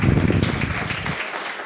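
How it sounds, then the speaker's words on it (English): Brief audience applause at a faith and service gathering, a dense burst of clapping with a low rumble of room noise underneath, fading slightly toward the end. "please join me in a big round of applause and thanks to Alan"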